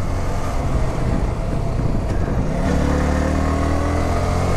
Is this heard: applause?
no